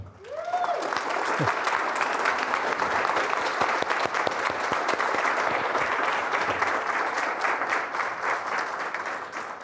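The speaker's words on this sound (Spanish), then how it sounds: "le solicito un fuerte aplauso" Conference audience giving strong, sustained applause for a lecturer, dense even clapping from a large crowd lasting several seconds.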